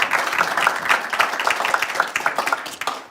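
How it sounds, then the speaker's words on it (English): An audience at the Wairarapa Awards, an awards event, applauds after a fixed connection, giving steady, close clapping with scattered individual claps that carries through the whole stretch. "I think Richard deserves a round of applause."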